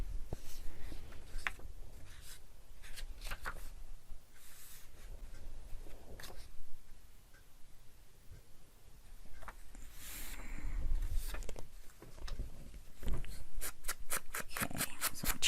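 Scissors trimming the corners of paper in an art-journaling session, heard as close repeated snipping and rustling strokes in irregular bursts, no talk.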